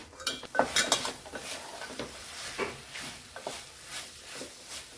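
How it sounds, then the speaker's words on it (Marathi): A red pumpkin vegetable dish with jaggery and grated coconut is stirred in a pan: repeated close scraping and clinking of a spoon against metal over a faint sizzle. "भाजी छान मिक्स करून घेऊया"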